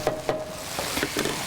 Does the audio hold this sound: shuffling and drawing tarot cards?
no